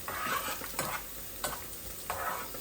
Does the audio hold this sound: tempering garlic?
yes